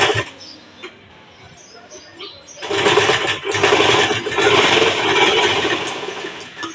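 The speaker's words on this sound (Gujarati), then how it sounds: "પછી ધાર સિલાઈ મારી દેવાની." Sewing machine edge-stitching a folded fabric blouse sleeve, starting after a quiet pause and then running steadily and loudly at close range for several seconds with short breaks.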